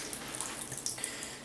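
Water drains steadily from rinsed clay growing media in a tabletop aquaponics unit, a faint continuous trickle with small splashes and drips.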